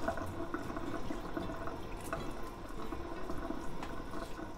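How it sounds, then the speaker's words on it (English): Cold tap water pours steadily over frozen shrimp in a colander, a soft, continuous splashing wash heard fairly faint and alone. "I'm placing the frozen shrimp in a colander and running cold water"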